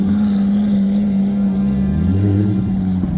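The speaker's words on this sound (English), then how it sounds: "Still revving their engines." Supercars revving as they roll past spectators at a car event, a steady loud engine drone with a low mid-range hum rising slightly near the end, no talking.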